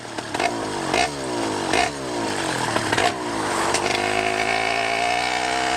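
A 100cc motorized bicycle two-stroke engine with a 49mm iron sleeve revs repeatedly during a ride, with several sharp rising blips followed by a sustained buzzing drone, loud and close with no talking.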